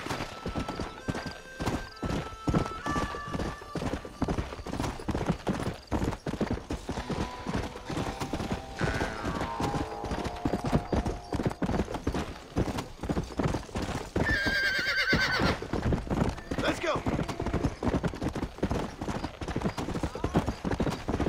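Horse hooves clip-clop in a quick, steady rhythm through Red Dead Redemption on Xbox One X, with a shrill whinny cutting in partway and game voices murmuring faintly beneath the galloping.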